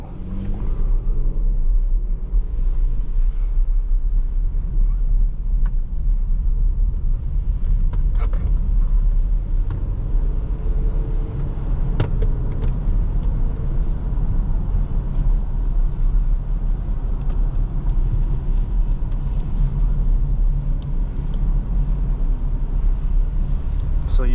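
A four-wheel drive car drives along with a steady loud low engine rumble and road noise heard from inside, a few faint clicks over it and no clear break for gear shifts.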